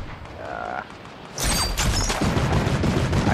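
Rapid gunfire bursts from the video game Fortnite, loud and dense after a quieter opening, with repeated shots and booming impacts blending into a continuous clatter.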